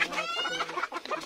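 Hens on a poultry farm cluck in a short, busy burst of overlapping calls, close and fairly loud.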